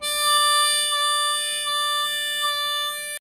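A single harmonica note held for about three seconds at a steady pitch, its tone colour shifting partway through as the mouth shape changes, played alone and fairly loud.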